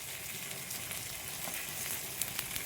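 Egg batter poured onto a kari dosa frying on a hot griddle, giving a steady, close sizzle with faint crackles throughout and a few sharper pops near the end, with no talking.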